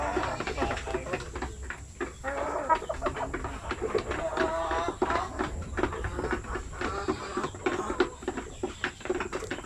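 Zampen native chickens cluck and call nearby in a farmyard, a busy overlapping chorus of fowl with pigeon-like cooing and scattered bird sounds throughout.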